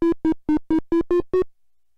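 A basic modular synthesizer patch sends a VCO's triangle output through a filter and a VCA. It plays seven short, clean, evenly spaced tones of nearly the same pitch, then silence. Nothing else is heard.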